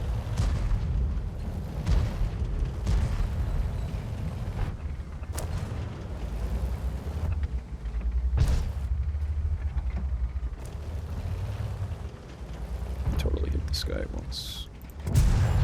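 Tank cannon shots and booming explosions in World of Tanks, a light tank battle, with several sharp blasts scattered over a low engine rumble while someone talks throughout.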